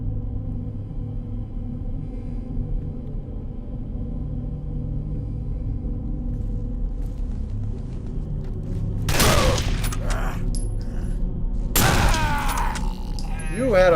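A shotgun firing in the PC game Contract J.A.C.K., two loud blasts a few seconds apart that cut through a steady low rumbling background.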